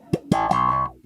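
A funk bass line played through a band pass filter effect with no clean signal blended in, a few short plucked notes and one longer nasal, resonant tone, loud and close with no voices.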